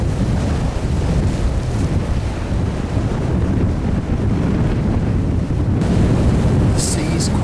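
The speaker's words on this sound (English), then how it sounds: "The sea is quite choppy, as you can no doubt hear." Choppy sea and strong wind on the Anglesey coast make a loud, constant roar of surf and buffeting gusts across the microphone, with a voice briefly audible within the rushing noise.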